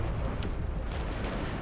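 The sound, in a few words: grenade explosion in video game Shoot Da Gitz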